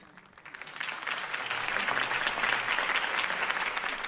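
Applause at a campaign speech for Harvey Dent in a Batman video game swells from a thin start into a dense, sustained ovation from a large crowd that fills the whole stretch.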